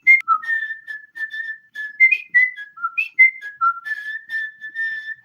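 A clear, close whistled melody imitating a bugle call, with brisk, evenly paced notes leaping up and down in a military fanfare pattern.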